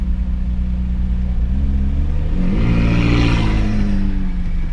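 A McLaren sports car accelerates hard away from traffic lights, its engine note rising and swelling as it revs up nearby, a steady road rumble beneath, then easing off as it pulls away.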